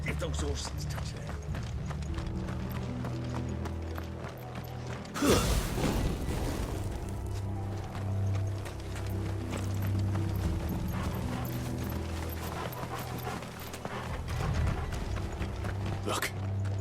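Steady clip-clop of horse hooves in the video game Final Fantasy XVI, mixed with creaking wooden and mechanical sounds, a sharp bang partway through, continuing at an even pace.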